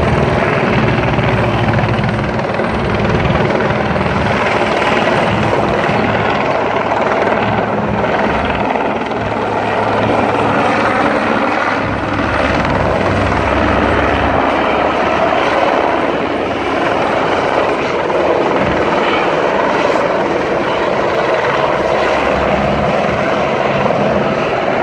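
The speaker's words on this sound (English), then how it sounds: "Here's another helicopter coming in." A helicopter landing on the roof of Tucson Medical Center, its rotor and engine producing a loud, steady, close chop that runs continuously throughout with no voices over it.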